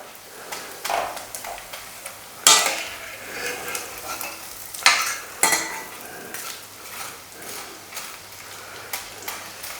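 Edible gum (gond) fries slowly over a low flame, giving a faint, continuous sizzle with intermittent stirring and sharp clanks of a spoon against the pan.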